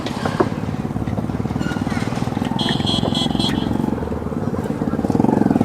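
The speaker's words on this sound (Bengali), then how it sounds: "আর এই দেখুন এগুলো সব বাইক রাইড হচ্ছে" Motorcycles ferry visitors along the sand at Talsari beach in Odisha, a close, continuous engine putter running throughout with voices talking over it.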